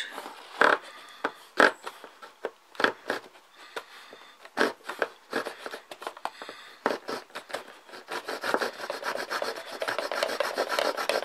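Notched spine of a Barracuda tactical knife sawing into wood, a series of short rasping strokes in an uneven rhythm that run into denser continuous scraping toward the end, close and with no talk.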